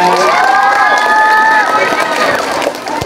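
An audience at a pageant national costume event cheers and shouts loudly, with high sustained voices and crowd noise close by, continuous through the stretch before easing slightly at the end.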